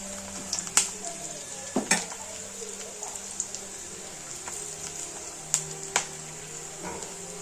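Onions and other ingredients for mutton gravy frying in a pan, a steady soft sizzle under scattered sharp crackles and spoon stirring, close and fairly quiet.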